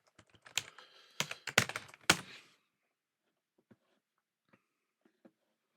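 A short burst of keystrokes on a computer keyboard while typing a search term into an eBay search, close and distinct for about two seconds, then a few faint isolated taps in near silence.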